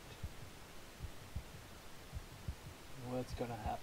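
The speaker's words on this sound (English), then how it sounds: "heartbeat" A slow, faint heartbeat effect from the Mount & Blade Warband intro, soft low thumps repeating at an even pace before a voice briefly speaks near the end.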